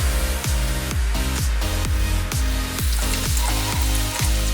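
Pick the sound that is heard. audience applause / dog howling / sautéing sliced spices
sautéing sliced spices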